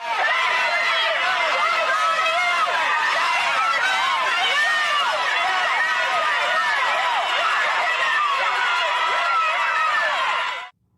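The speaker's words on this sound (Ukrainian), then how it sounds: "на вулиці її тепло зустрів розлючений натовп" Angry crowd outside the Capitol jeering Marjorie Taylor Greene, a dense, loud babble of many overlapping shouting voices that continues throughout before cutting off sharply.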